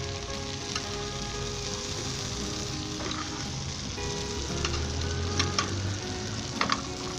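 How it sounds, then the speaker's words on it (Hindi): Butter and omelette sizzle steadily in a frying pan over low heat, a continuous close crackle with occasional louder pops and faint stirring, no voices. "2 टेबल स्पून के करीब मक्खन डाल दें आप इसके ऊपर"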